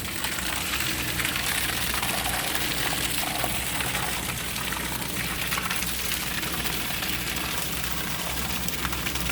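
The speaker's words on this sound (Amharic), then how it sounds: "አጠጣኋቸው ኦሎቬራዎችን በዚህ መልኩ" Water pours and splashes steadily onto potted aloe vera plants during garden watering, a continuous close rushing gush that stays even throughout with no talking.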